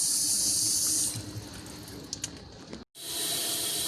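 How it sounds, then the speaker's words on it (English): Hot water at 123 degrees runs steadily from a janitor's sink faucet early in the morning, a loud hissing gush that eases partway, briefly cuts out, then resumes at full force. "Here we have 123 degree hot water coming out."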